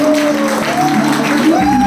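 An audience in a hotel banquet hall applauds to welcome a diamond president, with a dense burst of clapping under a voice talking over it.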